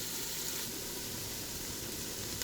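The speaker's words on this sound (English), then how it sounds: "I'm just going to let that brown all over on the sear function" Seasoned food sears in a Ninja Foodi on its sear function for a wild rice stew, producing a steady, even sizzle throughout with no breaks.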